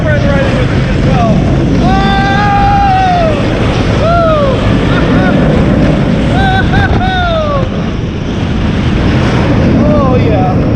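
Schwarzkopf roller coaster at Wonder Island amusement park in Russia, a loud steady rush of wind and rolling wheels throughout the ride, with rising and falling screams and whoops scattered over the roar.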